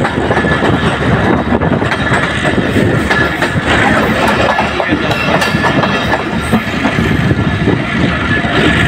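A train on the Hyderabad to Mirpurkhas line rumbles loud and close, with continuous wheel clatter and rolling roar filling the whole stretch.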